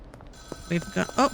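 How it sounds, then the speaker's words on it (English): A phone rings in the video game Schedule 1, with a few short tonal electronic ring bursts close up over a quiet background. "The phone's ringing."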